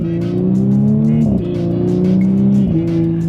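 An Audi S4 engine roars hard and steady at full throttle, rising in pitch with two brief dips as it shifts up, loud and close.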